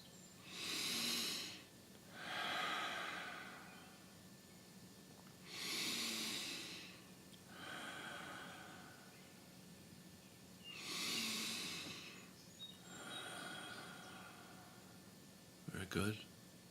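Slow, deep meditation breaths in an unhurried rhythm, four long airy exhalations spaced a few seconds apart, close and soft, with a brief faint knock near the end.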